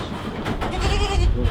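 A goat bleats close by, a wavering cry rising over a steady rustling background.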